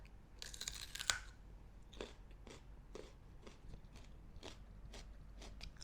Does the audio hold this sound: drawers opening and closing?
no